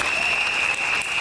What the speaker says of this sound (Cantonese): 俾啲掌聲好唔好